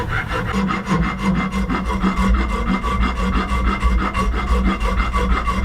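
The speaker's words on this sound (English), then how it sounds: "I'm just filing it away until it matches the contour of the blade exactly" Steady rasping of a file worked back and forth across a brass and ebony knife handle, shaping it to the blade's contour; close, continuous strokes with no talking.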